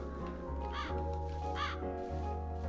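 Birds caw as they fly off in the video game Calico, with two clear crow-like calls over a steady musical backdrop.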